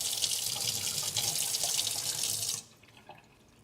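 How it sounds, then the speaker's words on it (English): Water runs from a kitchen tap to rinse out a milk container, a steady close rush that stops abruptly near the end, leaving only faint drips. "let me wash this out"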